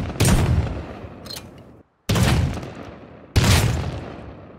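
Three loud, close double-barrel shotgun slug blasts in the survival game Rust, each a sharp boom with a long decaying tail, fired at long range toward players on a lighthouse, with brief silence between shots.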